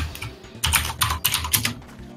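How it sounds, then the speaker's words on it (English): Rapid clacking keystrokes on a computer keyboard, close and loud, in uneven bursts with short gaps, no voices over them. "Your keyboard sounds like I'm banging my muffler against the desk."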